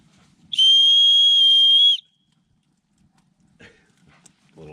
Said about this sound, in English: little emergency whistle